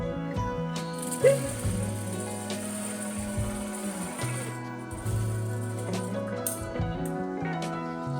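A sewing machine stitches through fabric and buckram, its motor humming in short on-off runs with faint mechanical clicking and rattling between them, close by.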